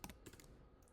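Quick keystrokes tap on a computer keyboard in a short, faint burst of several clicks, close up and without voices.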